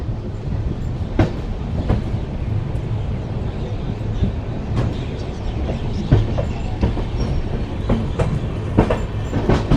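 Purva Express passenger train running on a diverted route toward Lohian Khas, with a steady clickety-clack of wheels over rail joints and a loud continuous rumble throughout, no voices.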